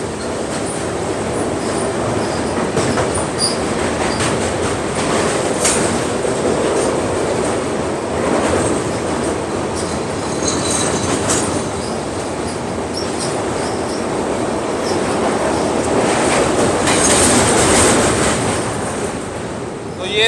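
Kamakhya–Rajendra Nagar Express (Capital Express) rushing past with a steady, loud broadband roar and rhythmic wheel clatter lasting throughout, heard from close by.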